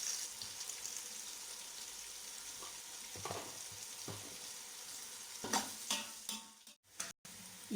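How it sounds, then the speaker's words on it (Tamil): Sliced onions and green chilies with a little salt fry in a pan for chicken biryani, giving a close, steady sizzle broken by scraping stirs and clinks toward the end. "இப்போ இது நல்லா ஃப்ரை ஆகட்டும்"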